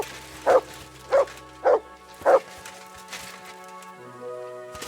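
Dog in the medieval game Kingdom Come Deliverance II barking four times at steady half-second intervals, close and clear, then fading into quiet ambience.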